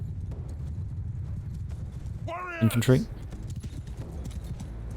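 Horses gallop in a battle in the video game Mount & Blade II: Bannerlord, a brief burst of hoofbeats rising over steady low battlefield rumble, with a voice speaking a single word amid the clatter.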